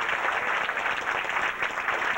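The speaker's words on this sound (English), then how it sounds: "how about joining me in a tremendous round of applause for Lee and all the folks in this great band" Audience applause for a live band aboard a cruise ship, a dense steady wash of many hands clapping, loud and continuous with no voices over it.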